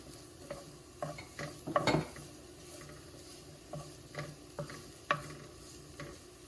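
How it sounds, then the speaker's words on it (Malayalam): Chopped onion and green chili sautéing in a pan for fish fried rice, with soft stirring scrapes and a low sizzle, a louder clatter of stirring near the start, then scattered quieter scrapes. "നമ്മുടെ ഒനിയൻ ഒന്ന് ചെറുതായിട്ട് വഴറ്റിയിട്ടുണ്ട്."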